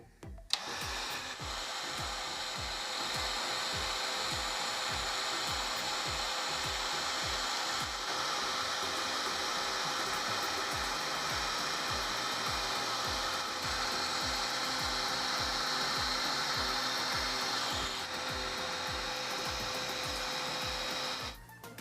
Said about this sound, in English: I'll be using a heat gun.